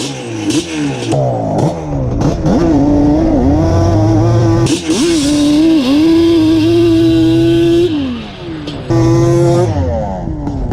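A modified Yamaha Banshee ATV launches hard and accelerates, its two-stroke engine screaming and climbing through gear changes in repeated rising sweeps, loud and close, with brief dips between shifts.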